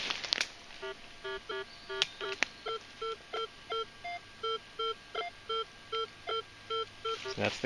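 A metal detector sweeps over a buried target at an 18th-century cellar hole and gives a long run of evenly spaced electronic beeps, more than a dozen in steady rhythm, with a few sharp clicks and knocks mixed in.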